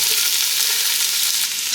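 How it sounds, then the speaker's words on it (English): Chopped onions hit hot olive oil in a pot, a loud, even sizzle that fills the short moment, close and without any talk. "Our onions are chopped and into the pot they go."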